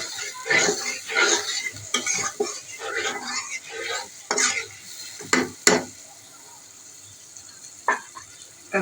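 Spice paste with salt frying in oil in a pan for a singi fish curry with potato, eggplant and tomato, with steady sizzling and repeated scraping stirs and clinks of a utensil against the pan, close up with no talking.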